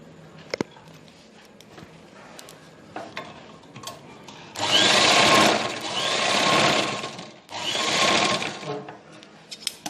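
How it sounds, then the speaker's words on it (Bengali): Sewing machine stitching cloth pieces together for a homemade cosmetics bag, running in three steady bursts of whirring after quiet handling noises, fairly close and with no talk. "তারপরে এই পাশেরটাও সেলাই করে নিতে হবে।"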